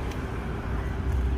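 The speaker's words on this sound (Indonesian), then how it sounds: "Ya, ada mobil." Low rumble of a car passing on a nearby road, a steady broadband wash of traffic noise with no voices over it.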